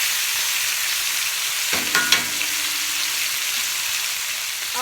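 Chicken browns in a frying pan with a constant close hiss of sizzling, broken midway by a short scrape and clatter of stirring, then settling back into steady frying.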